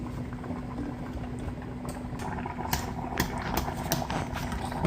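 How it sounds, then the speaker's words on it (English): A pot of water rolls at a boil for spaghetti, making a continuous close bubbling churn with scattered louder pops and a faint steady hum underneath, no talking. "have you ever seen a pot boil? You ever watch a pot boil?"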